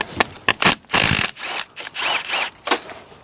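A hand ratchet loosens a 14 mm bolt on a JCB 3CX SiteMaster backhoe, producing close, loud bursts of rapid clicking separated by short pauses, with no talk.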